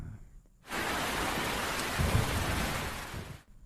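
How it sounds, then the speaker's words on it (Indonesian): Steady heavy rain pours down after a short quiet start, with a low thunder rumble underneath midway, then cuts off abruptly. "Seketika hujan turun"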